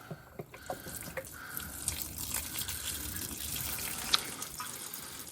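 Transmission fluid spills out of a 2023 Jeep Wrangler Rubicon transmission pan, a steady, fairly faint liquid pour and trickle with small splashes and drips throughout.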